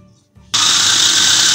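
Loud electric blender starting abruptly and grinding pieces of small white bread loaf (double roti) into crumbs, a steady high whirring roar after a brief quiet moment, with no talk over it.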